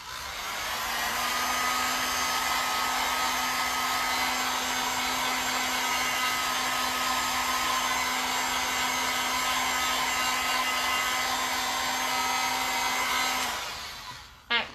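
A hair dryer blows steadily on chalk paste on a craft project. Its loud, constant whir holds for about thirteen seconds, then cuts off near the end.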